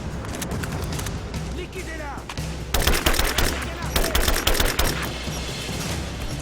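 Gunfire in the video game Rise of the Tomb Raider, with repeated sharp shots in quick bursts that grow denser midway, while someone talks over the action.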